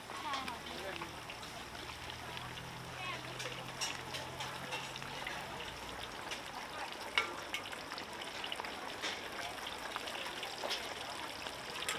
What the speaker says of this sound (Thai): โอ้น้ำมันเดือดปุด ๆ